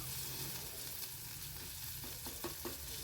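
Ginger paste and green chillies spluttering in hot tempering oil for a bottle gourd and fish head ghonto, a steady low sizzle with a few sharp crackles near the end, no voices.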